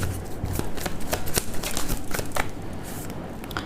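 Tarot cards riffled and shuffled by hand, a quick close run of crisp flicking snaps in steady rhythm followed by softer card handling, with no voice.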